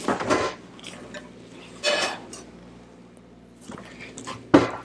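A cast-iron skillet is pulled out and handled in a kitchen, with a few separate clattering knocks and metallic clanks spaced out amid quiet gaps.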